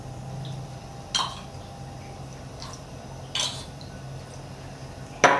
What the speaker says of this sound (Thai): ผมละลายกะปิในน้ำนะครับ